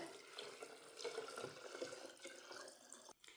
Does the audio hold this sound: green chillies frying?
no